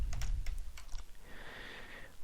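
Keys clatter on a computer keyboard in a quick burst of light, close taps as a keyboard name is entered, then the typing stops.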